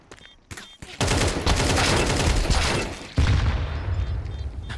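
Rapid, loud bursts of automatic gunfire rattle continuously for a couple of seconds in a first-person shooter game, pause briefly, then resume at close range.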